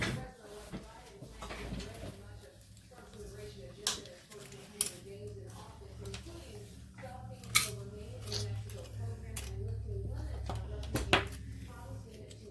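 Hoop earring material is snipped with a few sharp, separate cuts, soft handling clicks between them, while people talk quietly nearby.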